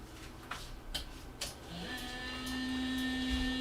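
A 3D printer powers up with a few clicks and knocks, then a motor or fan whine rises and settles into a steady, fairly loud drone with a high tonal hum.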